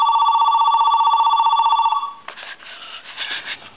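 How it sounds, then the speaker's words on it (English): An AT&T 710 telephone rings on its lower ring setting, a steady loud electronic warble for about two seconds before breaking into quieter, uneven bursts. "It'll go lower on the ring."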